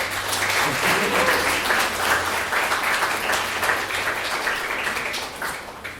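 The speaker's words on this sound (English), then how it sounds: "Can we have a quick round of applause for Madeleine's mom for driving up with her?" A crowd applauds steadily for several seconds, dense clapping that holds fairly constant before tapering slightly at the end.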